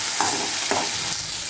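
Chutney ingredients sizzle in a hot pan while a spoon stirs them, scraping twice in a brief, steady burst of frying noise.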